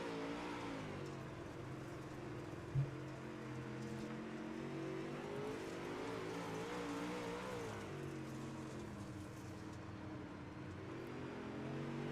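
Dirt modified race cars roar around the track at Huset Speedway, a continuous engine drone that swells and fades slightly as the cars circle, heard at a moderate distance with no voices.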